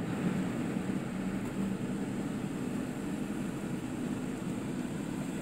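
Car air conditioning blowing inside a parked car, a steady broadband whoosh with a low hum underneath, constant and fairly loud with no voices.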